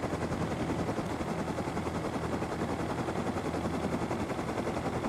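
A helicopter in the Rust video game thumps with a loud, continuous rapid rotor beat that holds steady throughout.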